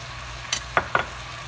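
Meat seasoned with ground coriander being stirred in a pan, three quick scraping clicks of a utensil against the pan over a faint frying hiss.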